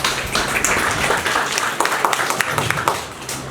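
A conference audience claps in sustained applause after a presentation, many hands at once in a dense, even patter lasting a few seconds.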